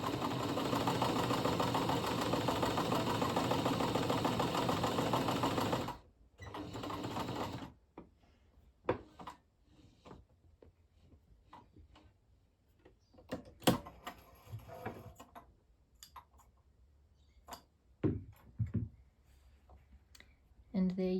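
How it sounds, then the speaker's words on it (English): A Janome/New Home 702 sewing machine runs an automatic stitch at a steady, fast mechanical whir close by, then stops, leaving scattered clicks and knocks from the mechanism and a few short bursts of machine noise. "you should be able to sew your automatic stitch"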